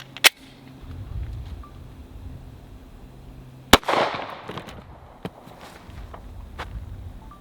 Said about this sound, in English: 165 grain, 40 cal, shoot at a Glock 22